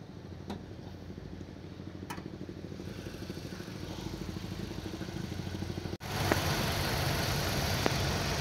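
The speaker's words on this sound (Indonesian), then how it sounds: "Teman-teman bisa dengar sendiri suara mesinnya, serius ini senyap banget ya, nggak ada bunyi yang macam-macam, suara iramanya standar." A car engine idles smoothly and quietly with a steady, even rhythm and no odd noises, a low continuous hum close by that grows slightly louder partway through.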